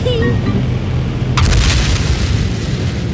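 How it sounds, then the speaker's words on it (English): An explosion in the Minecraft video game sounds as a loud, deep boom with a crackling burst partway through, close and heavy over a low rumbling background. "I think I heard an explosion in the living room."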